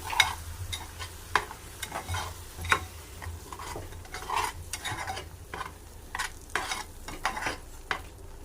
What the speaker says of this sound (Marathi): आता यामध्ये ती ग्रेव्ही सुद्धा टाकून घेऊयात. छान ढवळून